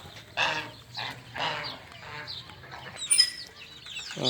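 Chickens in a backyard pet shed give repeated clucks and calls at close range, with scattered bird noises over a low background hum.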